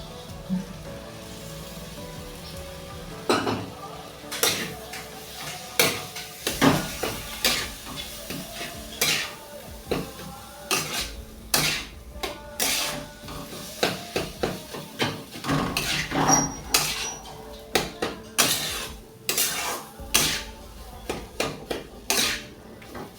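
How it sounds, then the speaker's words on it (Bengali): Mango pulp and potato filling stirred in a pan, giving repeated scraping and knocking strokes of a spoon against the metal close up, with a faint sizzle underneath and no speech. "ভালো করে নাড়তে থাকতে হবে।"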